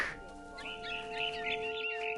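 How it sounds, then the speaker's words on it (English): A barn swallow chirps repeatedly in the video game What Remains of Edith Finch. The quick, bright tweets sit over a sustained musical drone at moderate volume. "Then I heard chirping outside my window. It was a barn swallow going back to her nest."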